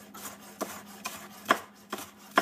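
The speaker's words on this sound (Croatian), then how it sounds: "Zatim isječemo luk." A knife chops onion on a cutting board in a home kitchen, giving six sharp, evenly spaced knocks about half a second apart, close to the microphone and alone against a quiet background.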